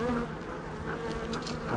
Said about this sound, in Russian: Злые пчелы кидаются сразу на все, что движется.